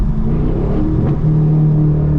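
A Camaro SS engine roars steadily and rises in pitch as it accelerates under a bridge, a loud close rumble throughout with no talking.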